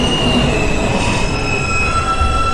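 A Manhattan-bound NYC subway J local train running, with a continuous loud rumble of wheels on track and a thin, sustained metallic squeal riding over it.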